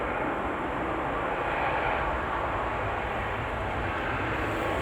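Steady broadband roar of an aircraft passing overhead as it takes off or lands near a country park, loud and sustained throughout with no talk.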